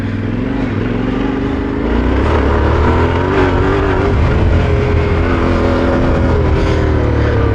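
Yamaha Tenere 700 Extreme 2024 adventure motorcycle riding through rutted off-road terrain, a loud, close engine drone that rises and falls with throttle changes and steady wind noise.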